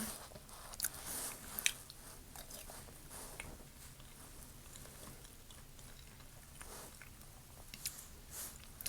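A person eating a home meal of rice with taro and sweet potato, with soft, close biting and chewing sounds repeating steadily, a few sharper crunchy bites standing out, and no talking.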